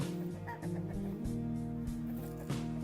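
Chickens clucking and squawking close by in a Hmong hill village, a busy overlapping jumble of calls with a steady background hum.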